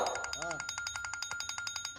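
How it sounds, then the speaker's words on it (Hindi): A mobile phone rings in a rapid, regular electronic trill of short repeated pulses, close and steady, with a voice speaking over the start. "बेटा फोन बज रहा है, उठा लो"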